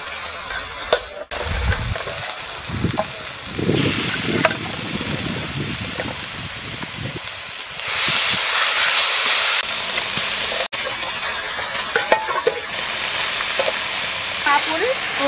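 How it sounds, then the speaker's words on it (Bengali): Meat sautéed in a spice masala, producing a loud, sustained frying hiss with heavier stirring thumps and scrapes early on, then a brighter steady sizzle that swells in bursts, broken by a couple of brief sharp clicks. "এবার আমি মশলার মধ্যে দিয়ে ভালো করে কষে নেব।"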